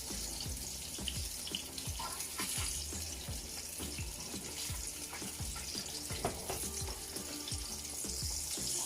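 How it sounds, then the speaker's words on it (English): Jerk salmon pieces frying in a pan, a steady close sizzle with crackling pops running throughout, heard alone with no talking. "Now we're gonna take out the ones that nicely fry and just let the rest fry up nicely."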